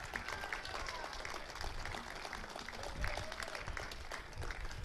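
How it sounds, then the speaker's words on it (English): An audience at a ceremony honoring a former Los Angeles mayor breaks into a round of applause, a fairly quiet, steady patter of many hands that carries on for several seconds. "A round of applause, please."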